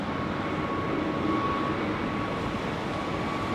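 Jumbo jet at London Heathrow Airport in wet weather, a continuous broad engine roar with a faint whine on top, steady and fairly loud throughout.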